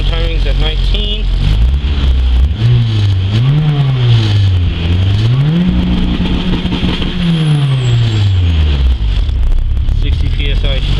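A 400hp Honda Civic race car engine cranks and fires up, then settles into a loud, steady idle. Its pitch rises and falls through several blips of revving before it drops back to idle.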